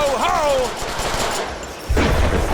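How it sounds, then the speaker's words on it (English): Machine gun fire in the Deadpool video game, a loud, dense burst of rapid shots in the second half that follows game sound effects and a voice. "Now I have a machine gun."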